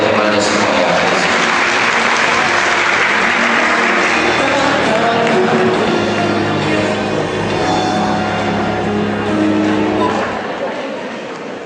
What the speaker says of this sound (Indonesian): Tepuk tangan yang meriah kepada semua yang ada di sini.